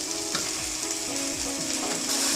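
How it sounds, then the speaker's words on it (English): Boiled, mashed red lentils (masoor dal) going into a frying spinach and black chickpea curry, with a loud steady sizzle and a few soft stirring scrapes. "Next I'm going to add the boiled and mashed dal, that is Masoor dal or red lentil."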